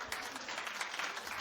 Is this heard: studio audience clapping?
yes